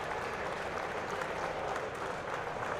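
A crowd applauds at the Star Wars Legion world championship tabletop tournament at Adepticon, a faint, steady patter of clapping heard from a distance without pause.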